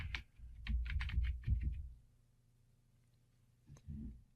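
A computer keyboard is typed on to enter a database name: a quick, quiet burst of key clicks lasting under two seconds, then a pause and one last key press.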